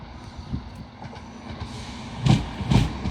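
A train rolls past at Grantham station on the East Coast Main Line, wheels clattering at moderate distance, with a couple of sharper clacks swelling near the end.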